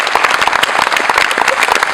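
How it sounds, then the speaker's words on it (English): An audience at a youth center opening in Kenya claps in dense, continuous applause, loud and close, with many hands overlapping and no clear voices above it. "A round of applause."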